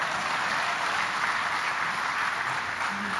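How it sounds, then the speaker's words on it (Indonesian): A large gathering of cadres from across Indonesia claps together, a fairly faint but continuous wash of applause heard from a distance, steady for a few seconds without speech. "Mana tepuk tangannya?"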